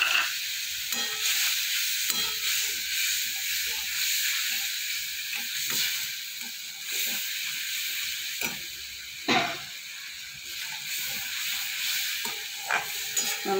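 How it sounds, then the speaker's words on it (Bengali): Ginger and green chili frying in oil in a pan with dried red chili, salt and turmeric, a steady close sizzle with occasional stirring scrapes and no talk. "মশলাটা একটু কিছুক্ষণ ভাজা ভাজা করে নিই"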